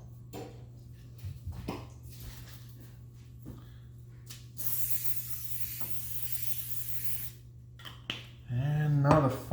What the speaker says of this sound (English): We're going to get some grease because we want it to be greased up.